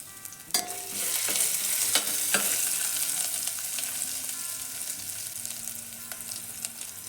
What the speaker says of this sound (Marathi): थोडं साहित्य कडकडू द्यायचं. मग त्याच्यात अद्रक लसूणची पेस्ट टाकायची.